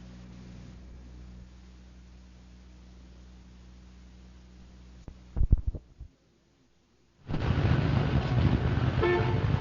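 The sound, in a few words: car horns honking in a traffic jam, radio drama sound effect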